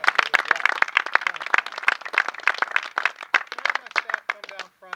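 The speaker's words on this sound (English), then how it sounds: "So I want to give them a round of applause." A room of people at an evening gathering gives a round of applause for the members, with scattered, uneven claps and voices talking over them.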